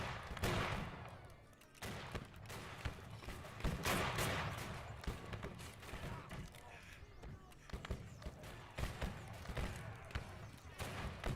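Big guns fire in the American Civil War game Battle Cry of Freedom, a rolling barrage of booms and crackling shots layered over a busy battlefield, fairly faint and continuous throughout.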